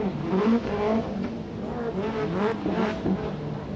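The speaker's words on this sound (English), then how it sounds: "Running that 2AR engine, 4-cylinder turbo, nitrous setup." Race car, a Toyota Corolla hatchback with a 2AR four-cylinder turbo engine and nitrous setup, droning and revving loudly at close range at a qualifying event, with the pitch rising and falling throughout.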